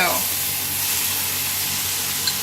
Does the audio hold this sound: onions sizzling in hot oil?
yes